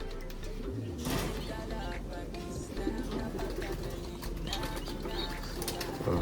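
Pigeons kept in a loft, speedbird racing birds among them, coo softly and flap their wings. The sounds stay faint under steady background noise and a person talking.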